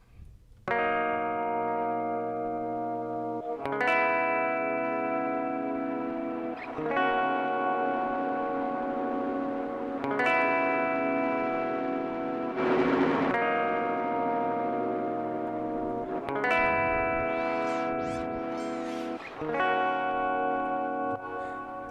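Sustained synth chords swell in and repeat through a T-RackS 5 Space Delay tape delay, each new chord blooming with echoing tails and a smeared, modulated wash around the middle, loud and continuous with no talking.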